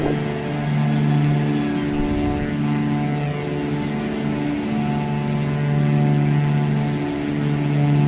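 Twin propeller engines of a Carenado Baron in the Prepar3D v5 flight simulator, climbing out after takeoff at about 120 knots: a loud, steady, droning hum with a constant pitch that holds the whole time, with no voices.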